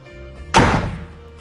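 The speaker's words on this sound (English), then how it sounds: "Make sure the door is completely closed and secured before operating the vehicle." An HMMWV door swings shut with a single loud, solid thunk as it latches, followed by a short fading rattle against a quiet background.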